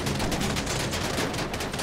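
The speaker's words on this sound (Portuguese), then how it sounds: "Mete bala aí no pneu de novo, vai." Rapid bursts of gunfire in the game GTA, shooting at the tire of an armored vehicle, forming a dense continuous rattle with no voices.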